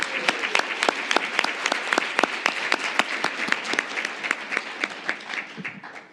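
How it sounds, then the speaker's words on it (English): Conference audience gives applause for a panel, a modest room of distinct claps in a quick irregular rhythm, steady and then trailing off at the end. "So first, applause for our panel."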